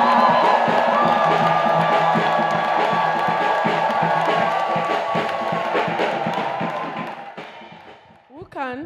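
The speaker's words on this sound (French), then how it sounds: "The shouts of joy." A church congregation at a worship service shouts with joy, a loud, sustained crowd of cheering and whooping voices that gradually fades toward the end, followed by a brief clear voice.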